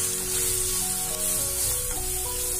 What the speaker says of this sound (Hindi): अब हम इसमें मिर्चें डालेंगे